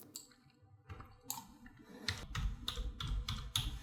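Text being typed on a computer keyboard, soft irregular key clicks in quick bursts, close and fairly quiet, with no voice over them.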